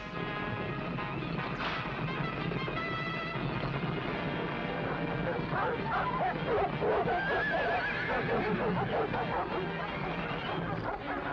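A horse neighs and whinnies amid a busy, noisy scene of rumbling and commotion, fairly close and clear over the background.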